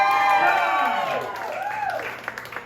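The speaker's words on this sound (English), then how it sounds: "Can we have huge applause for this man?" An audience applauds at a small live concert, a steady wash of clapping that gradually thins out, with singing or a held vocal tone over it.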